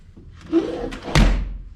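The door of a 1946 Chevrolet truck slams shut with a single heavy thud, close by, after a brief soft shuffle.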